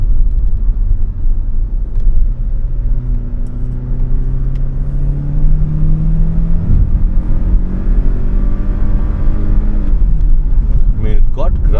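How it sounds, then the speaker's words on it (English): A Renault Duster engine revs hard in manual mode, its pitch climbing steadily before dropping off, loud and close with a deep rumble underneath. "I think I need to kind of rev it a little harder nowadays."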